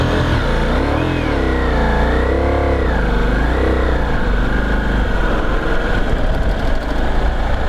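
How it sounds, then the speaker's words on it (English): Ducati Multistrada V4S motorcycle pulling away in fifth gear, with a loud, close engine that labours at low revs and then slowly rises in pitch as it gains speed, with steady wind and road noise. "Could I actually start this bike running forward in fifth gear?"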